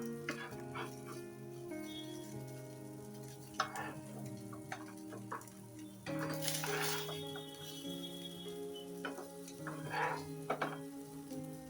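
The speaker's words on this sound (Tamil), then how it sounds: "ஒரு செம்ல வச்சு நல்லா 2 சைடுமா திருப்பி போடுங்க" Elephant yam cutlets sizzle steadily in a pan over medium heat, with occasional clinks and scrapes of a utensil turning them, no talking.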